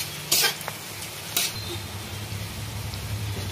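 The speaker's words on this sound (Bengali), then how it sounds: "পেঁয়াজটা একটু গোল্ডেন কালার করে ভাজবো।" Onions frying in a pan toward golden brown, with a steady low sizzle and two brief louder stirring scrapes near the start; no voices.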